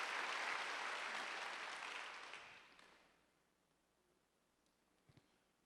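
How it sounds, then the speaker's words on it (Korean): Congregation clapping during a Wednesday church worship service, a dense burst of applause that fades away over about three seconds, leaving a quiet room with a faint knock near the end. "박수를 한번 주세요."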